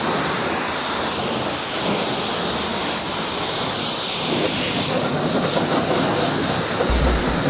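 A pressure washer sprays water over a car at a self-service wash in Latvia, giving a loud, unbroken hiss that stays steady from start to finish with no talking.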